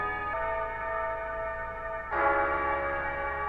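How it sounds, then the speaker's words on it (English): Music filtered through a parametric EQ radio preset to sound like an old radio, thin and muffled with a boxy midrange, playing steadily and brightening partway through. "a parametric EQ with the radio preset to make it sound like a radio"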